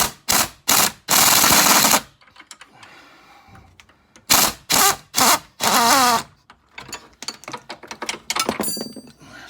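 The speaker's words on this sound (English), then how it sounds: "So I'm going to cheat again with my rattle gun." An impact wrench hammers at a rear suspension nut on a Mercedes W211 in short, loud, rattling bursts separated by pauses, followed by a quick series of lighter clattering taps.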